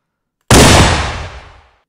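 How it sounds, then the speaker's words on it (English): A single Halo 3 Magnum video game gunshot cracks out loud and close, processed to sound punchier, with a bright sharp attack followed by a rumbling tail that fades over about a second. "is the original Halo 3 Magnum sound file."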